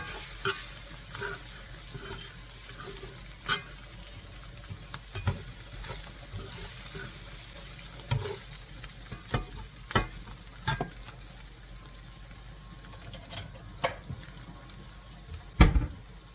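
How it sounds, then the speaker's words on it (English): Macaroni, ham and cheese being stirred in a cast iron pan with the heat off, a soft steady sizzle broken by scattered sharp scrapes and clicks of the utensil against the iron, close by. "Turning off the heat, and I'm just going to continue to stir this."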